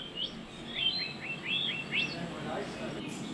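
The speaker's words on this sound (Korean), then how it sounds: "What you hear right now is what the forest used to sound like in the 1970s and a little bit beyond that, before the brown tree snake had such an impact" Forest birdsong from Guam in the 1970s: a single bird repeats bright whistled phrases nearby, with rising and falling notes over a soft, steady forest background.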